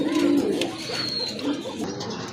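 Pigeons at a market sale pen give soft, low cooing calls close by, repeated in short bursts over a faint background murmur.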